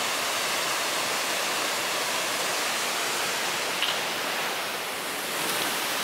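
The Iron Creek Falls waterfall fills the air with a continuous, even rush of falling water, a steady broadband roar with no voices.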